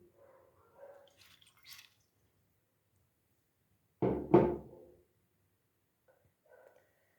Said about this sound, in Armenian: Ավելացնում եմ նաև կես բաժակ ջուր